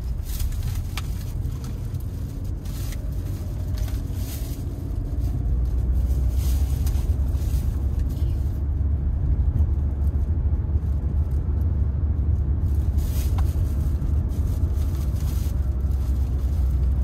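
A car driving uphill in low gear as the clutch is released and throttle added, a loud steady engine rumble and drone heard from inside the cabin, rising slightly in level partway through.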